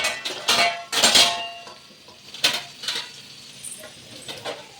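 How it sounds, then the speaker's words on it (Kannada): Washed dishes being stacked and arranged in a home kitchen, a few close clinks and clatters of pots and utensils in separate bursts, the loudest near the start, then softer knocks with quiet gaps between them. "ಅವಳು ತೊಳೆದಿರೋ ಪಾತ್ರೆ ಎಲ್ಲದನ್ನೂ ಜೋಡಿಸ್ತಾ ಇದ್ದಾಳೆ"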